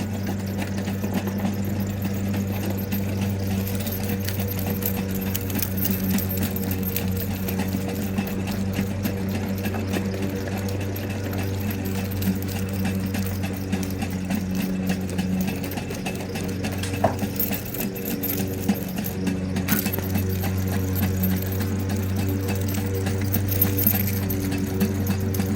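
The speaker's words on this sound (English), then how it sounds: "the machine is still spinning forward" A drain cleaning machine spins forward with a continuous, steady mechanical hum and motor drone, close and even for the whole stretch, with a few faint clicks and no talking.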